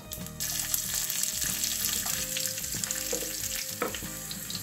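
Mustard seeds, cumin and chopped garlic fry in hot oil with a steady crackling sizzle, while a utensil scrapes and knocks against the pan at intervals, close and continuous with no speech.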